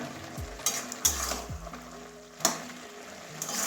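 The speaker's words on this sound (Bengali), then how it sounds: "এবারে ভালো করে আবার মিশিয়ে দেব" A spatula stirs a pan of bottle-gourd leaf curry cooked with a rohu fish head, giving several scraping knocks against the pan over a steady sizzle, close and fairly quiet with no talk.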